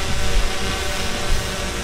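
A DJI Mavic Pro drone takes off and climbs, giving a loud, steady whirring drone of spinning propellers that stays constant and close for about two seconds, with no voices.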